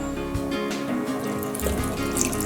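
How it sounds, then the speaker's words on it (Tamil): Water runs steadily into a bowl of ragi flour for a couple of seconds, a continuous splashing flow with no voices. "இப்போ வந்து தண்ணி ஊற்றி மிக்ஸ் பண்ணிக்கலாம்"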